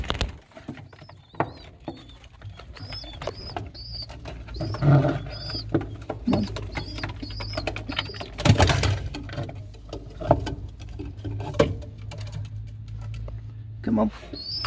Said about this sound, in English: Beautiful little pigeon, come on.